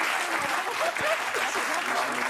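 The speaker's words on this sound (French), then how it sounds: "Gilles Verdez qui n'a jamais été autant applaudi" Studio audience applause on a French television talk show, steady and full throughout, a dense wash of clapping with no voices on top.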